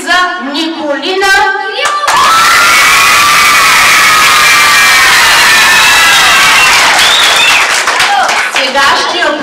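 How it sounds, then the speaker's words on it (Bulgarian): After a brief spoken phrase in Bulgarian, a crowd of children bursts into loud clapping and shrill cheering at a New Year's celebration, continuing steadily to the end. "Следващите аплодисменти за Николина."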